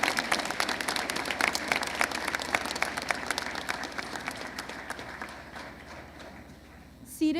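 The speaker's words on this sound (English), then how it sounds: "Please join me in recognizing all of our special guests with a large, warm round of applause" An audience at a high school Veterans Day assembly claps warmly for special guests, the distinct claps fading out over several seconds, and a voice briefly cuts in at the end.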